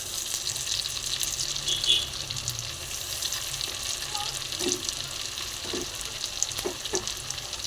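Tomatoes cooking in hot oil for a boiled egg fry curry, giving a continuous moderate sizzle with occasional soft stirring knocks and scrapes, no voices over it.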